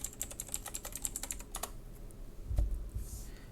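Fast typing of a username on a computer keyboard, a close burst of crisp key clicks for about a second and a half, then a few scattered taps and a soft thump.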